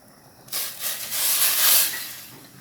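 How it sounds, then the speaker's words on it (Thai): Sour curry broth with fish roe and cauliflower boiling in a pot gives off a sudden, close hiss of steam and bubbling that swells for about a second and a half, then fades. "น้ำแกงเดือดแล้วนะคะ"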